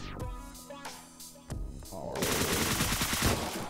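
An SMG fires in the top-down shooter game Deadbolt, breaking into a loud, rapid continuous burst after a couple of seconds of quieter game sounds and clicks.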